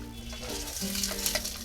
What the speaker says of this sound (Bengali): এটা আমি ডুবা তেলে করছি না এটা আমি যেহেতু পরোটা সেই কারণে একটু মুচমুচে হবে তাই আমি অল্প তেলেই করছি